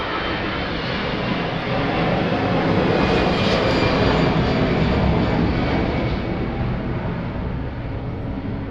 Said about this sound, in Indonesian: ada suara pesawat sedikit tadi